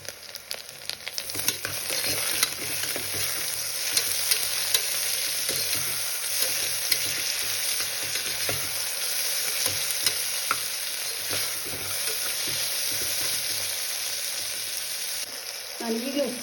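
Tomato and chillies fry in a pan and are stirred, a steady crackling sizzle with scraping stirs throughout, ending with a short rattle.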